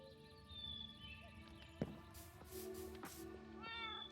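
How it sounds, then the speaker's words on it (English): A Minecraft cat gives a couple of faint meows within the quiet game ambience, with soft music and a sharp click or two. "I hear a cat, I do not see it."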